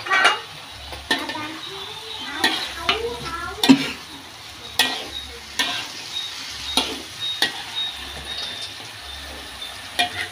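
Tofu tossed into a sizzling stir-fry of long beans and anchovies. A steady close-up sizzle runs under repeated sharp spatula scrapes and clinks against the pan, about one every second.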